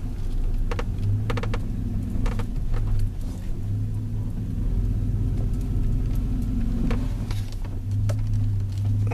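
A GM 4.8L V8 under hard acceleration, a steady loud low drone and rumble heard from inside the vehicle, with faint clicks and rattles on top.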